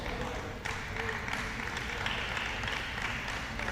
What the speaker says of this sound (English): the crowd here in the Magic City Auditorium showing some appropriate enthusiasm for tremendous play on the court